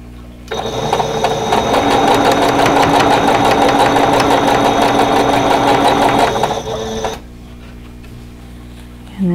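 A loud, close sewing machine runs in one steady, continuous burst of rapid mechanical stitching as quilt block pieces are sewn together, then stops, leaving a low room hum.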